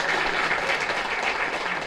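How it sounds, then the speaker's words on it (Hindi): Schoolchildren in a government school classroom in the hills clap for a classmate, a dense burst of applause that stays steady and close throughout. "ताली बजाओ भाई इसके लिए"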